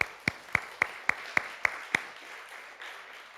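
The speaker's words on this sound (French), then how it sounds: "on peut aussi les applaudir," A church congregation claps for its pastors and elders: eight sharp, evenly spaced claps in a steady rhythm, then a quiet murmur of the room.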